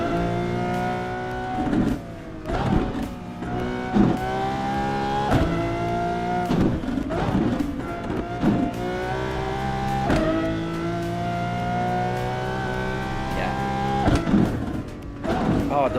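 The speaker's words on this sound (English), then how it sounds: "This Lamborghini sounds so good. I like the way it sounds." A high-revving Lamborghini Aventador engine in a racing simulator game, climbing through the gears with sharp upshifts and repeated surges, loud and continuous throughout.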